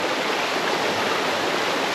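A river stream rushes steadily over smooth sloping rock at a crossing on a forest walk near Erskine Falls, a close, continuous broadband wash with no voices.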